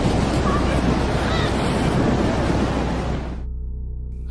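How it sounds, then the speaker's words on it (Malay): Waves surge onto a beach in a loud, continuous roar of surf with wind noise, close to the microphone, before the sound suddenly cuts to near silence at the end. "Wenn die Wellen hier auf den Strand rauschen"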